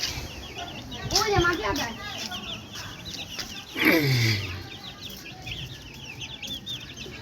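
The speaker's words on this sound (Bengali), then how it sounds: "আমি মুরগির বাচ্চা পালি।" Young chicks being raised by a family chirp in a busy high-pitched chorus throughout, with a louder squawk near the middle and people talking nearby.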